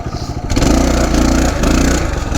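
Coleman CT200U mini bike engine revving hard as it accelerates up a hill, a loud, close, steady mechanical roar with rattling clatter that swells after a brief quieter start.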